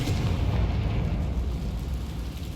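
A Confringo fire spell from Hogwarts Legacy bursts into a deep explosive boom, a continuous rumbling blast sustained for a couple of seconds at steady loudness, with no talking over it.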